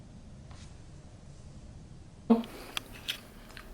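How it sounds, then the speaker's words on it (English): Someone eating a cheese snack: near-silence, then a sudden close crunchy bite followed by a few short chewing crunches. "I'm eating a snack real quick."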